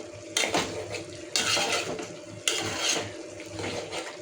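A lid goes onto a pot of Pallipalayam chicken cooking on the stove, with three loud metallic clanks and rattles spaced about a second apart over a low kitchen background, no speech.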